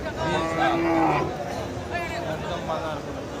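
Cattle lowing at a busy livestock market in Khochabari, Thakurgaon, with native medium-sized bulls on sale; a couple of drawn-out moos rise over steady crowd hubbub and nearby chatter.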